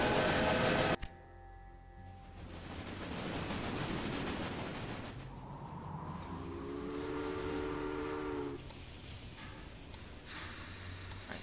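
Trains running in the Railway Empire video game on the Great Plains, a steady rumbling rail noise with whistle-like tones rising midway, heard alone without talk.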